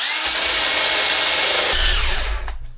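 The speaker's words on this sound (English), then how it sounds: "I'll have to do on a drill." A power drill spins a wire brush against rusted metal on a Morris Marina barn find, a loud harsh whirring grind that runs steadily, then winds down and stops as the battery dies.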